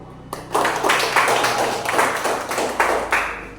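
A classroom group claps in several quick bursts, fairly close and fading toward the end.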